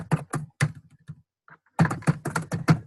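Clicky computer keyboard typing in two quick bursts, separated by a brief pause, close and clear with no talk over it.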